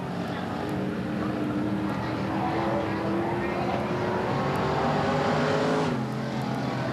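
Street stock race cars roar around Tulsa Speedway, a continuous dense engine drone from several cars at once, steady and moderately loud with no talk.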